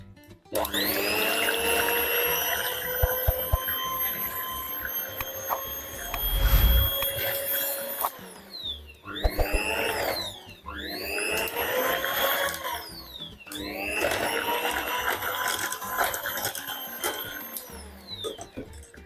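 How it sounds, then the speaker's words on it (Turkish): An electric mixer whirs loudly and steadily, its pitch rising and falling in a few surges as a lemon milk pudding mixture is whisked, with no talking. "hemen güzelce çırpacağım"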